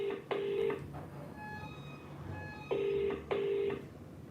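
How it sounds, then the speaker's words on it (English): An outgoing call produces a UK-style double ring tone, two pairs of short electronic buzzes separated by a quiet gap, clear and close with faint background hum and no speech. "It's ringing, good start."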